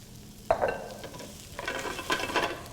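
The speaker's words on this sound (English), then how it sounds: "whenever I'm sauteing mushrooms" Sliced mushrooms with garlic and thyme sautéing in a pan: a sudden loud sizzle as they hit the oil, then steady frying crackle with stirring and scraping sounds, close up and with no talking.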